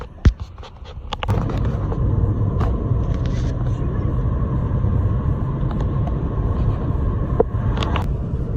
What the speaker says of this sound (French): Oh, c'est une GR GT. C'est une Toyota GR 86.